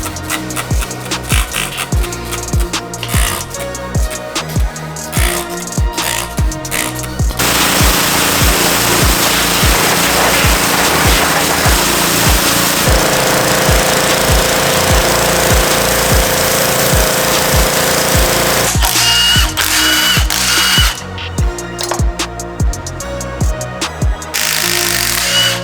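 A power tool cuts off the output shaft of a transfer case during a Toyota Tacoma prerunner 4WD swap, a loud, harsh, continuous grinding roar with rapid chattering stretches at the start and end.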